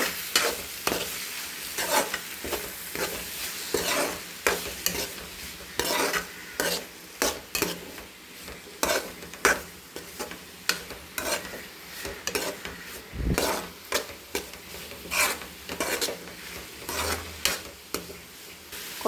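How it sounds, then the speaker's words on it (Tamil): Carrot and egg scramble (podimas) stirred in a hot pan: soft sizzling under repeated scraping and tapping strokes of a utensil against the pan, irregular and close. "இப்போ நல்லா எல்லாத்தையும் போட்டு கிளறிடலாம்."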